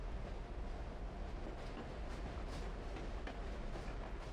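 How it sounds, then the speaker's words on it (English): A train running on tracks in Saints Row 2, struggling over a glitched hill: a steady, dense rumble of wheels and rail noise that holds without a break throughout and carries no talk. "Is it just really hard for trains to function over this hill?"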